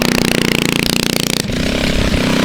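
A mini trike's small engine revs hard in the snow, a loud buzzing whine pulsing rapidly for over a second before dropping to a rougher, steadier drone, close and alone.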